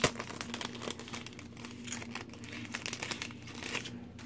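Plastic packaging around Studio 40 die-cut badge elements crinkles and rustles up close as it is opened, in a run of quiet, irregular crackles and small tearing sounds.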